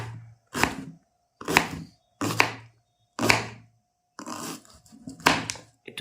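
Knife chopping onion on a board in a village-style kitchen, six distinct close, crisp bursts of cutting with short silent gaps, the last two running into quick successive chops, no speech.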